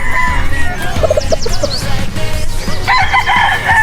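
A Sweater Boston straight-comb gamefowl rooster crows loudly and close, one full cock-a-doodle-doo with clucking and other birds calling around it in a backyard farm setting.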